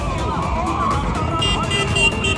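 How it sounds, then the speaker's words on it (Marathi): Road traffic at a busy Pune crossing in the Mundhwa area: a dense, steady roar of cars and motor vehicles with a horn-like tone and engines whining past nearby. Brief voices can be heard under the noise. "कुठून पण गाड्या येतात, कशाही गाड्या येतात."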